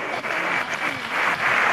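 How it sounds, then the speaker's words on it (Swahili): Church congregation clapping in praise of Jesus, a dense wash of hand claps with a few stronger bursts, moderately loud and steady throughout, no voices standing out. "Pigie Yesu makofi."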